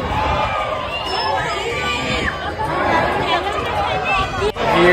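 Dense crowd hubbub at the Khatu Shyam temple in Rajasthan, a steady roar of many overlapping voices and chatter, loud and close throughout with occasional shouts rising above the babble.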